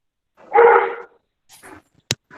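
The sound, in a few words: dog barking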